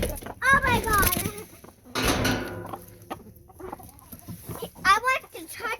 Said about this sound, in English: Why are the chickens like all around me?